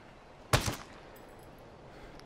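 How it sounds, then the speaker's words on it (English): Sniper rifle fire in Ghost Recon Breakpoint, a loud close crack followed quickly by a second burst, then a quiet backdrop with faint distant noise. "Get my sniper rifle out and see if I can catch this guy."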